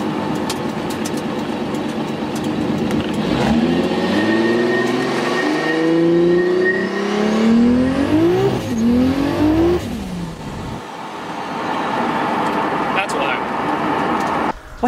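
An 800 hp Toyota Supra on a standalone ECU pulls hard on a street, its engine note rising through several gears in loud, sweeping revs with shift breaks, while a voice talks over parts of the run.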